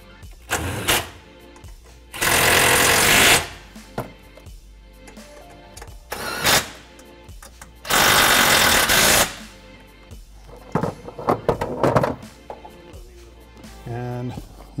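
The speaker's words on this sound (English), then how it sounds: "go ahead and tighten them down" Bolts on the rear seat mounts of a Polaris RZR Pro XP4 are tightened, with long loud bursts of a power tool whirring alongside shorter ratcheting clicks and metallic handling clatter, close and prominent.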